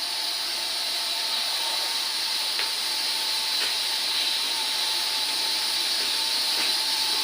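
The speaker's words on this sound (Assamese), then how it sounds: "পানী উতাল আহিয়ে আছে" Water boils and steams steadily in a pot for cooking Assamese glass pitha, a quiet constant hiss with a few faint clicks and no voices.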